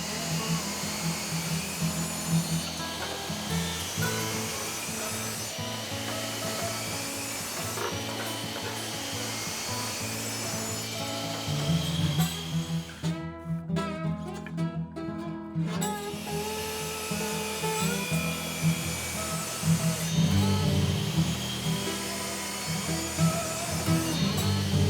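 A power tool trims ash wood pieces down to a height of 1 1/4 inches in a woodworking shop, with a loud steady whine and rough cutting and rubbing that continue throughout, dropping out briefly in the middle.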